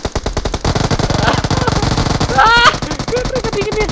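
PUBG gunfire crackles in a rapid, sustained automatic burst of loud, close shots with a few brief pauses, and a voice comes in partway through.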